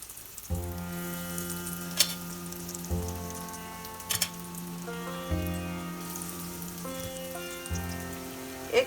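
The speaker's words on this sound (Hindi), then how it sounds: "अभी एक एक करके हमें डेविल डालना है तेल में" Egg devils, crumb-coated egg croquettes, fry in hot vegetable oil over a medium flame, a steady close sizzle and crackle running throughout with a few brief louder pops.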